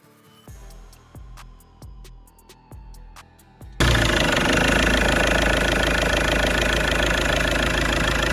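A car engine with a DPF particle filter clatters at idle with a few rhythmic knocks, then abruptly jumps to a loud, steady roar held at maximum RPM for the remaining seconds, close and alone.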